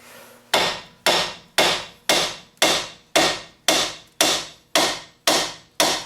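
A hammer strikes a rusted Mazda 3 steering knuckle to free it from the front strut: eleven loud, close metallic blows at a steady, even rhythm, each ringing briefly, with no talking.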